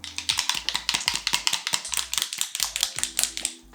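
A bottle of ILIA skincare formula is shaken hard and fast, a steady run of sharp, close rattling knocks with no one talking.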